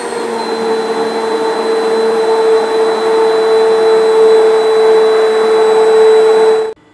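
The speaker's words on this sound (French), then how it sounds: "Et là, on va mixer." Blender whirring steadily as it mixes a chocolate ice cream truffle base made with 70% and 62% chocolate and cocoa paste, a loud constant motor drone with a tonal hum that runs alone and stops abruptly near the end.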